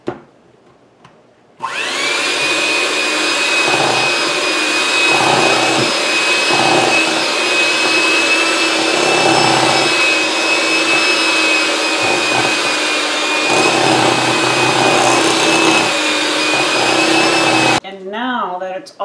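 Electric mixer beating apple cake batter, a steady loud motor whine running continuously for about sixteen seconds after a quiet start, then cutting off near the end, with no talking over it.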